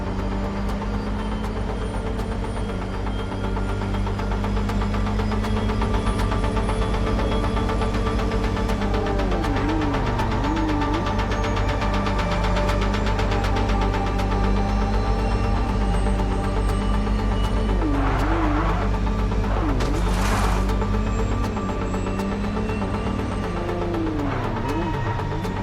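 Car engine in the video game MindsEye drones steadily at high revs while driving fast, with pitch wavering as the car speeds along. Tonal engine hum stays loud and continuous throughout, with brief bursts of road or tire noise near the end.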